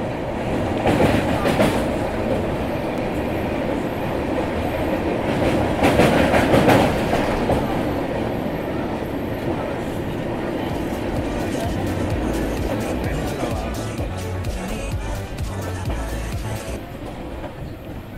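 A Pinakini SF Express train runs on the tracks on a morning trip out of Vijayawada, heard from on board as a steady rumbling drone with rhythmic clatter and occasional louder bursts, with a voice talking faintly under it.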